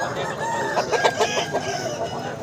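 Chickens and roosters at a poultry market clucking and crowing together in a dense, continuous chorus, with repeated close calls rising over a busy crowd background.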